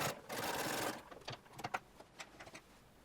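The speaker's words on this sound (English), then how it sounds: "use a top stitching needle in your sewing machine" A domestic sewing machine runs a continuous burst of top stitching along a dress seam, then stops and gives a series of short, uneven mechanical clicks and whirs.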